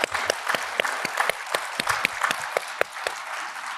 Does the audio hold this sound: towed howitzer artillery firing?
no